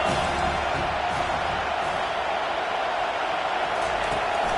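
Stadium crowd noise from a college football video game, a dense, sustained roar of cheering fans with no break, heard alone at steady loudness.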